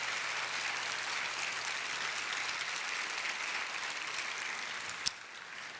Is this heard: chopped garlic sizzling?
no